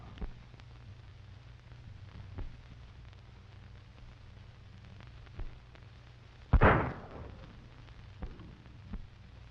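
A single sharp, booming gunshot rings out once over a faint hiss of old 1935 western film soundtrack, followed by a brief decaying echo, with a few softer knocks around it and no voices.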